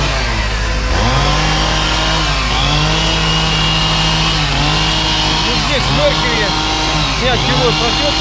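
A chainsaw cutting logs at a log house building site, the engine loud and close, revving up and down in repeated cuts over a steady idle, with people talking beneath it.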